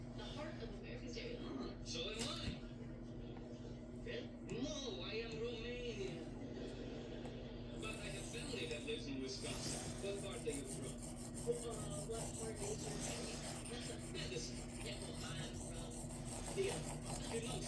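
A knife blade rubbed back and forth across a cheap Chinese 3000 grit whetstone, giving a soft, steady rasping scrape close up, with talk over parts of it.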